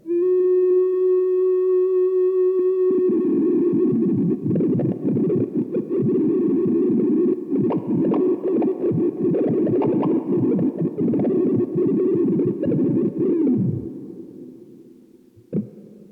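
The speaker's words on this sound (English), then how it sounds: "the really glitchy synth, which sounds completely broken" A distorted synth-like guitar tone from a glitchy synth pedal sustains and then breaks into sputtering, glitchy fragments as tracking deteriorates, steady and loud before cutting off abruptly near the end.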